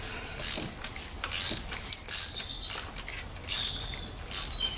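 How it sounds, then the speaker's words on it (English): A ratchet tightens a spark plug on a 2009 Toyota Verso, giving repeated bursts of fast metallic clicking from the pawl, several strokes in a row with short pauses, close and clear. "you can then use your ratchet to finish off the last bits"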